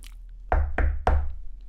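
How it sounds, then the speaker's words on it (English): Three firm knocks on a door, close and evenly spaced, each a sharp thud with a short ring, with no voices. "there was a knock on the door"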